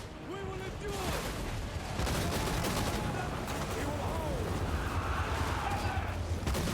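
Cannons and tanks fire nonstop in a Total War: Warhammer 3 battle, making a dense, rumbling roar of blasts and crackling gunfire, with indistinct voices calling out through the din.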